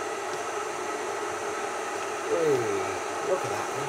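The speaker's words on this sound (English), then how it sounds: "this is one of those quick boil kettle things" An electric quick-boil kettle heats up with a steady, broad hissing roar, with someone speaking briefly over it partway through.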